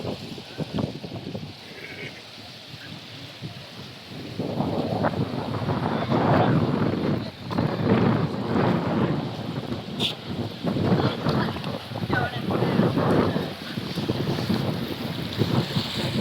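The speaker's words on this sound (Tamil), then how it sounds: "தண்ணி சரியான வேகமாக பாய்ந்து கொண்டிருக்கிறது." Fast river water rushing under the Vattuvagal bridge, a broad continuous roar mixed with gusty wind buffeting the microphone, swelling louder partway through.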